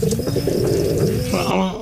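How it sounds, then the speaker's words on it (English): Pigeons coo close by in a short series of soft, throaty, repeated calls with a slight burbling rhythm. "I would like to audition pigeons for the Bird Idol"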